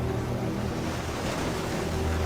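Ocean waves crash steadily on the shore in a loud, continuous surf roar with wind noise, no voices present.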